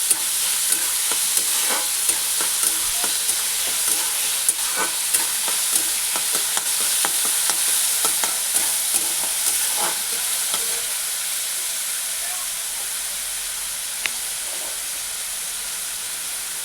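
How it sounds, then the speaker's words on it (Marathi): Onion frying in a pan gives a steady, loud sizzle and hiss with occasional soft stirring scrapes and ticks, close up and continuous throughout. "कांदा भाजून घ्यायचा आहे."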